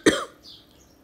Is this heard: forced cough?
yes